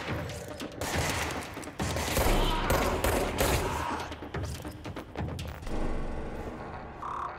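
Gunfire in the video game Control, with rapid bursts of shots and mechanical clatter coming in dense waves, loud and close, with no talking.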